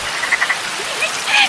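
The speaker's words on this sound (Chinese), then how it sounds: "听青蛙叫也很好" Frogs croak in short rattling calls over a constant background hiss at night, several brief bursts close together, with no talking.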